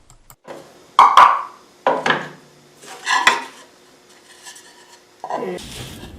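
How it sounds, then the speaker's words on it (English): A putty knife pries a wooden box free of double-sided tape, giving four or five sharp, close knocking and scraping bursts with short pauses between them. "The double-sided tape holds the box quite thoroughly, and I used a putty knife to remove it."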